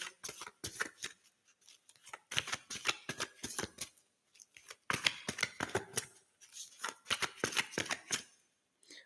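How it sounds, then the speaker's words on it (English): Tarot cards being shuffled by hand in close, crisp bursts of riffling and flicking, repeated in several rapid runs with short pauses between them and no talking. "All right, so I just shuffled."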